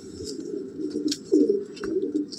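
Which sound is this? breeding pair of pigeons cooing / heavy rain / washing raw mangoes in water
breeding pair of pigeons cooing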